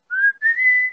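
A person whistles a melody, two clear sustained whistled notes with a slight pitch rise, close and loud with nothing else audible.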